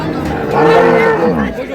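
A cow moos loudly nearby at a cattle market in Dinajpur, Bangladesh, where dairy cows with calves are sold, over a busy background of crowd chatter and other livestock noise.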